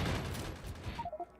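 Two turrets in Factorio Space Exploration fire a dense, continuous barrage that fades out into a few short electronic beeps.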